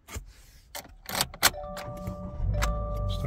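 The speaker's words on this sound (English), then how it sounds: "Starts the car just fine" A 2023 Subaru Crosstrek starts on a newly programmed key: clicks and key jangles, a sharp starter crank, then the engine settles into a low steady idle with chimes close by.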